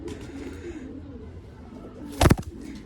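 A pet pigeon coos softly and repeatedly in a quiet loft setting, then a brief loud burst of flapping or handling noise cuts in near the end before the low cooing resumes.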